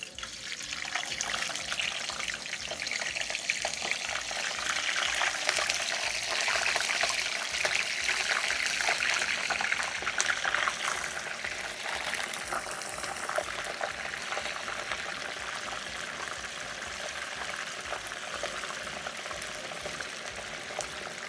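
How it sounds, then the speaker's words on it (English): Frozen homemade french fries straight from the freezer sizzling in hot grease at about 350 degrees, a continuous loud hissing crackle with dense spitting pops that eases slightly over time, no talking. "These are froze, come straight out the freezer, straight into this hot grease."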